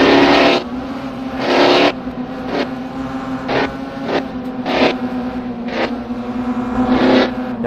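A race car out on a track gives a steady engine drone with a low sustained tone, broken by repeated bright surges of louder noise as it accelerates, with no voices heard.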